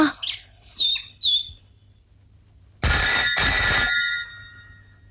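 An old-style telephone bell rings in two long, loud bursts close by in a quiet home, after a few faint bird chirps; no one speaks.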